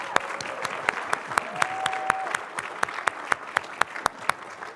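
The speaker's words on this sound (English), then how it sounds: "another round of applause for our amazing graduate students" Audience clapping for graduate students at a university thesis competition final, a moderate, fairly even round of applause with sharp individual claps standing out and a brief tone in the middle.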